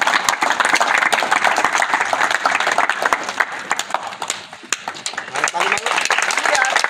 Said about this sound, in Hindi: ताली मारो, ताली।